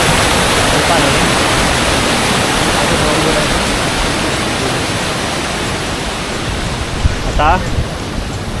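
Water rushes steadily along the approach to Kelavali waterfall near Satara, a dense, continuous wash of flow heard close and loud throughout, with a brief faint voice near the end.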